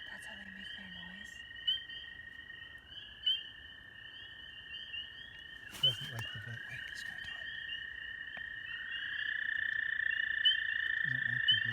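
Spring peeper frogs give steady high-pitched calls that run through the whole stretch. The sound is fairly close and continuous, with a few short clicks and handling noises. Someone speaks briefly over the calling.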